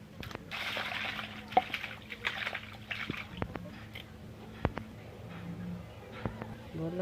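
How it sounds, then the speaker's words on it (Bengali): Small mourola fish washed by hand in water, with soft sloshing and splashing close by, punctuated by occasional sharper drips and taps. "তো আমরা মাছগুলো 3-4 বার ধুয়ে নেব ভালো করে"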